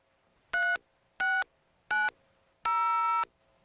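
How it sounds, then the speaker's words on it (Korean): Touch-tone telephone dialing in a home: three short clear beeps followed by a longer busy-signal tone, crisp and close with no voices. "하지만 통화 중이군요"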